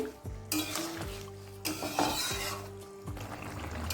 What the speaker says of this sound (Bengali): এবার লঙ্কাটাকেও একটু মিশিয়ে নিচ্ছি তরকারির সঙ্গে